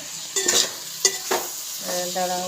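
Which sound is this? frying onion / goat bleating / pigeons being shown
frying onion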